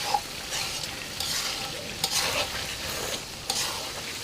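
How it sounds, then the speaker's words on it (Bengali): Duck meat is stir-fried in a pan: a continuous soft sizzle runs throughout, broken by several sharper scraping strokes of a spatula at irregular intervals. "শুকিয়ে গেলে ভালো করে কষিয়ে নিব।"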